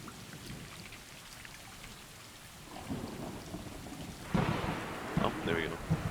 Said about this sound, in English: Long day of just staring at rain